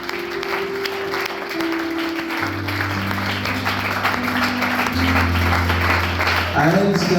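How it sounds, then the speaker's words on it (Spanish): A church congregation applauds after a sermon, a broad clapping wash mixed with sustained musical tones and some voices throughout. "Dale un aplauso al Señor."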